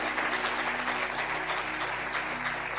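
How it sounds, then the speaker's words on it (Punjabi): A church congregation at a sermon claps loudly in unison, a dense, continuous burst of hand claps holding steady for a few seconds, with a low hum in the room and no voices on top. "ਤਾਲੀ ਮਾਰੀਏ ਜ਼ੋਰ ਦੇ"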